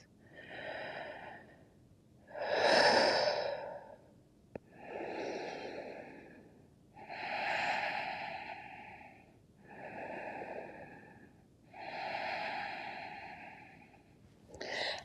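Slow, deep breaths during yoga meditation, about five long inhale-exhale cycles with audible airflow, fairly close and steady, no talking.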